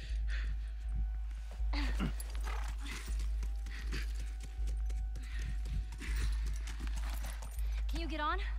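Horse hooves clip-clop in The Last of Us during a hunt, a steady rhythmic trot heard near and fairly quiet, with players talking over the game sounds.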